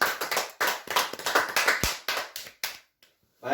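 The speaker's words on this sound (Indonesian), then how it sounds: "Tepuk tangan untuk Tuhan" Small group clapping during a church worship service, a scattered handful of hands giving quick, uneven bursts of claps that thin out and stop, followed by a short pause.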